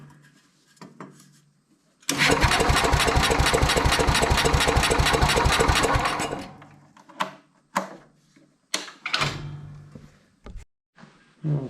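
Vintage Sears Suburban 12 lawn tractor barn find cranking and briefly running, a loud steady rapid engine chug for about four seconds before cutting out, followed by scattered clanks and knocks.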